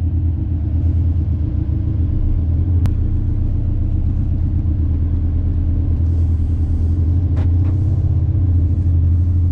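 A car's exhaust, its tone switched by a phone-controlled exhaust mode, idles with a steady, deep, close rumble throughout, a faint click and a brief higher noise near the end.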